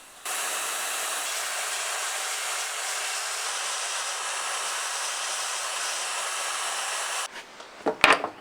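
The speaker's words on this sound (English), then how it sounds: "I used my belt sander to get the 8mm rod to spec." A belt sander grinds the end of an 8mm steel rod in a steady, continuous whir for about seven seconds, then winds down. A few short knocks and clicks follow.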